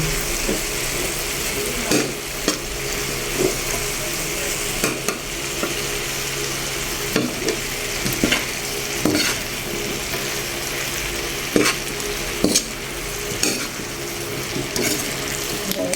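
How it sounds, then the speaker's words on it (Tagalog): Menudo with liver spread and hotdog being stirred in a pan: a constant sizzle from the frying mixture, with scattered scraping knocks of the spoon against the pan. "Ito na pong hahaluin."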